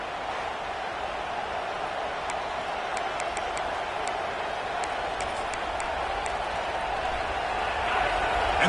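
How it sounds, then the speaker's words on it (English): Stadium crowd in NCAA 26 college football, a Michigan State game, roaring as one steady wash of noise that swells slightly toward the end, with faint ticks above it. "And this crowd coming to life here, trying to help the defense get a stop."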